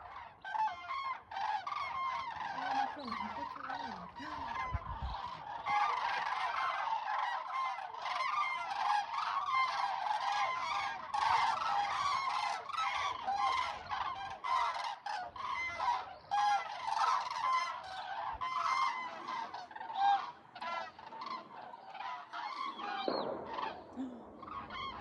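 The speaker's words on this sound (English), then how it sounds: "All the birds are flying back." A flock of geese and other birds returning after winter in the French countryside, honking and calling continuously in a dense, overlapping chorus from moderate distance, with no talk.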